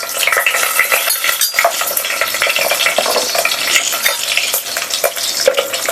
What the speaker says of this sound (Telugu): కొంచెం ఇట్లా వేగుతున్నప్పుడు ముందుగా కట్ చేసుకున్న పచ్చిమిరపకాయలు,